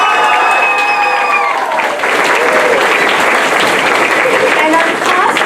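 An audience at a school's Lion King stage production applauds the costume and makeup team, with steady, dense clapping and some cheering filling the whole stretch while talk carries on beneath it.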